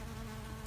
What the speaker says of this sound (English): I've got some really dark bees in my apiary,